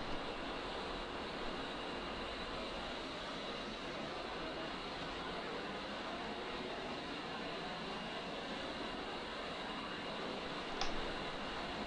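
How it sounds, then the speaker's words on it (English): Fuel boost pumps on an A-10C Warthog run in the DCS World flight simulator as a steady, even electric hum and hiss, constant throughout with a faint tick near the end and no talking. "Our boost pumps for our fuel are going to be turned on."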